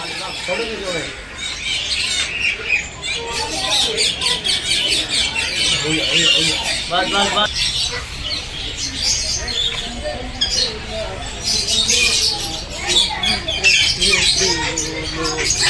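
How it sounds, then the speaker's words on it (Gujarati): Parrots in an aviary at Kankaria zoo in Ahmedabad squawk and chirp in loud, repeated harsh calls, mixed with people talking nearby. "આ છે સુરપાણનો પોપટ."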